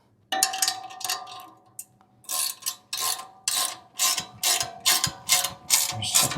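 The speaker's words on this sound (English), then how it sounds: "So we're going to tighten the second screw here." Ratchet wrench tightening a bolt on a Cybertruck front bumper, a close, loud run of about ten sharp rasping clicks in a steady rhythm after a brief pause, with no voices.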